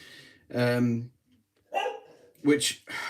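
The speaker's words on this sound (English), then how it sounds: "Oh, sorry about my dog. I can't control her from barking." A pet dog barking indoors in three loud, close bursts separated by short pauses, heard alone with no talk over it.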